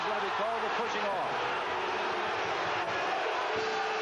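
A packed arena crowd at a 1987–88 NCAA basketball game between Ohio State and Iowa roars in a sustained, loud wall of cheering and shouting, with a commentator's voice faintly mixed in.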